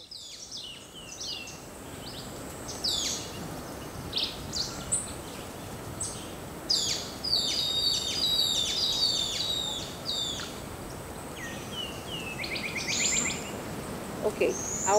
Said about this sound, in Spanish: Yo escuché unos pajaritos